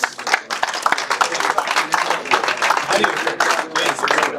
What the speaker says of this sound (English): Big round of applause for all 5 finalists, please